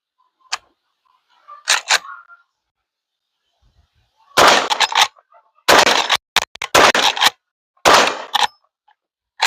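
A Henry Big Boy lever-action rifle fires .45 Colt rounds outdoors at a range, several loud sharp shots in irregular succession with pauses between, alone without talk.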